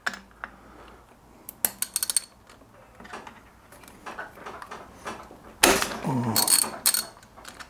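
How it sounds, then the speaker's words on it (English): A ratchet with a 16 mm socket works on a spark plug of a Yamaha R3 motorcycle, with short bursts of quick, close clicking between soft handling noises and a brief louder scrape. "we are gonna use the 16 mil socket again with the ratchet"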